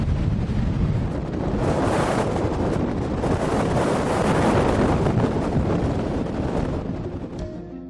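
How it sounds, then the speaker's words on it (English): Steady Atlantic wind sweeps over a mountain crest, a continuous, loud, roaring rush with heavy buffeting against the microphone and no break for the whole stretch. "Steady winds from the Atlantic blow up over this crest over to the Pacific side of the country"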